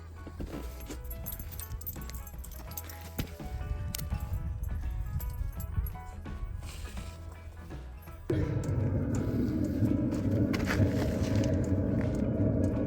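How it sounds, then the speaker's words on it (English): A diesel heater in a van starts up, with clicks and rattles giving way to a steady low rumbling whoosh of the heater running and blowing air, close and continuous. "That's the sound the diesel heater makes."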